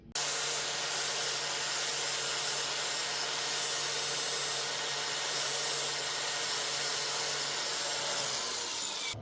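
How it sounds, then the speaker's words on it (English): A metal rivet on an AK II tufting gun is sanded flat, making a steady, close, hissing abrasive rasp that runs continuously with a faint underlying hum. "So we are going to sand this down flat, and then on the scissor rivet, we're going to just do a light sanding."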